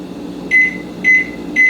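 An oven timer gives three short, evenly spaced electronic beeps as it is set, each about a fifth of a second long, over a low appliance hum.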